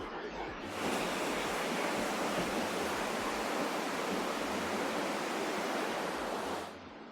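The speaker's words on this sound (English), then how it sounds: "Kind of the water rushing underneath us." Water rushes steadily beneath a large truss bridge near a dam, a loud, continuous broadband roar that swells in after a moment and holds evenly before easing slightly at the end.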